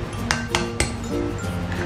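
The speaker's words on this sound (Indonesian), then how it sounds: "kita pecahkan 1 butir telur ayam" A chicken egg is cracked into a bowl while making a no-oven, no-mixer cake, giving three sharp shell taps close by and then a faint splat, with quiet kitchen clinks in between.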